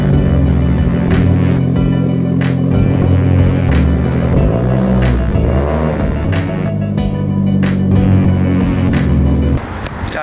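A widebody Mitsubishi Evo X engine idles and rumbles loudly up close while backing out, with low throbbing and slight revving as it moves, steady throughout.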